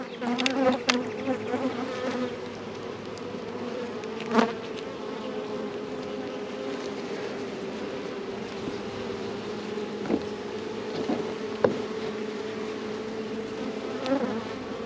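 Honey bees buzz at an open beehive as a dense, steady drone close up, with occasional louder passes of single bees near the microphone and no talking.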